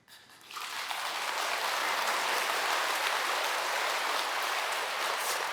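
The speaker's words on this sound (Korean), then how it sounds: "요 대목에서 박수 치는 거 보니까 수준이 대단하신 겁니다" Listeners at a Buddhist sermon break into applause after a brief quiet start, the clapping swelling quickly into a dense, steady roar of many hands that holds for several seconds.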